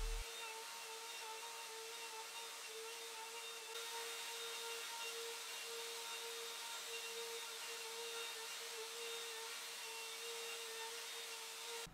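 A router bit on a turret-adjusted setup mills across reclaimed timber to flatten it, a steady high whine with a constant pitched tone, continuous and fairly even, with a slight shift partway through.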